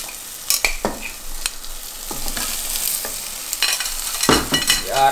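Chicken pieces go into a pan of frying tomato paste: a steady sizzle with irregular scraping and stirring clatter from a utensil, close and moderately loud, with no talking.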